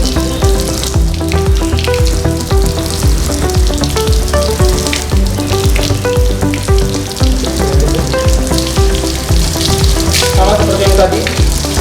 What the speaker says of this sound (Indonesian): Pembilasan menggunakan air bersih dilakukan pada seluruh permukaan jenazah, tubuh jenazah, baik di depan maupun di belakang.